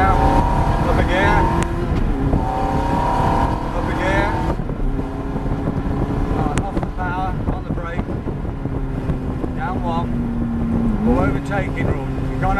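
Ferrari F430 engine accelerating onto a circuit: revs climb and drop through several gear changes, loud and close, mixed with wind buffeting and a voice talking over it.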